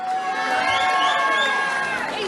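A crowd at a white-collar boxing event cheers and shouts right after a fight, a dense wash of raised voices that holds steady for the whole moment.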